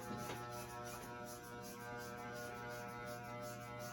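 Electric hair clippers cutting hair during a self-administered medium fade haircut, a steady close motor hum and buzz running throughout with faint crunching as the blades catch hair.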